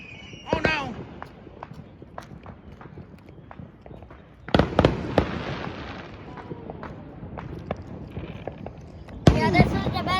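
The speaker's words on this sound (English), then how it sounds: "this is the best day for the fireworks, right?" Fireworks going off in Chesterton, Indiana, a couple of sudden loud bangs with crackling tails amid ongoing conversation and background activity.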